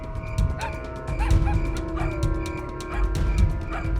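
Several dogs barking repeatedly at a military patrol training event, sharp overlapping barks and yips over a constant background drone, fairly close and loud.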